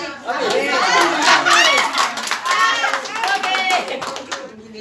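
An audience applauds a presenting group at an Indonesian seminar, steady clapping mixed with crowd chatter and voices talking over it.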